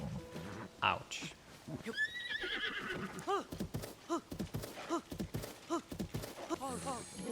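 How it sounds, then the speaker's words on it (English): A horse in the Tears of the Kingdom video game neighs loudly in repeated whinnies among clip-clop hoofbeats, with a player talking over the game sounds. "Look at that horse."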